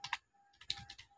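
Quick bursts of keystrokes on a computer keyboard, two short clusters separated by a pause, close and crisp in a quiet room.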